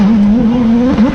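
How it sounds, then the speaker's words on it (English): A loud, close turbocharged Viking hill climb motorcycle engine drones at a steady pitch with brief dips and surges, revving hard at a pro hill climb race. "Hear that turbo"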